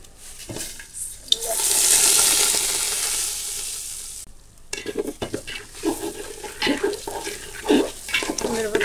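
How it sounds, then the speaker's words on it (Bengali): Cinnamon, cardamom and salt stirring in hot oil in a cooking pot, a bright sizzling burst in the first half that cuts off, then irregular scraping and clattering stirs, fairly close. "নাড়াচাড়া দিয়ে নিই।"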